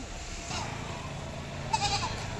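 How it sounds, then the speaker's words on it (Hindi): A goat on a farm in Hyderabad lets out short bleats near the middle and end of a low, steady background murmur. "माशाल्लाह खूबसूरत एक बकरी है"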